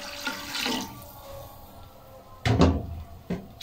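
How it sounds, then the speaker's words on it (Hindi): Water splashes into a pot of rice being cooked for black pepper biryani, with short bursts of pouring and clattering kitchen sounds, fairly close, separated by quieter gaps and no talking. "पानी इसमें थोड़ा और शामिल कर लेंगे क्योंकि हमने निचोड़ देना पानी को"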